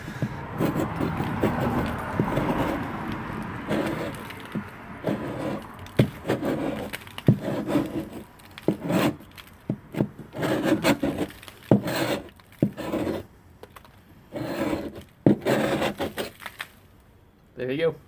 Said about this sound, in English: Show you the 1100 in action. I'll reheat this place over here.